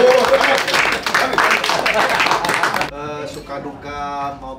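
An audience claps at a comedy group's fourth-anniversary show: dense, loud applause fills the first three seconds, then breaks off as a person starts talking.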